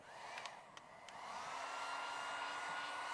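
A heat gun blows steadily to soften Mopar foam tape holding a Jeep Gladiator taillight, a constant airy whoosh that swells slightly louder partway through, with a few faint clicks near the start.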